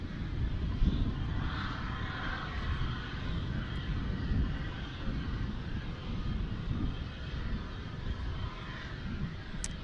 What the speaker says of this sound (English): Got a Martin Air coming inbound from Abilene. A Cessna 208 Grand Caravan.